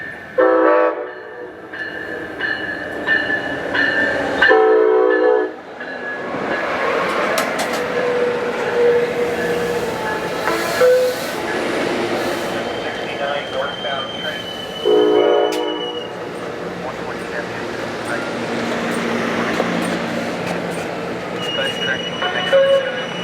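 A passenger train rumbles and screeches into Moorpark station, wheels squealing and brakes hissing in bursts, with a loud horn and a distant voice over the noise.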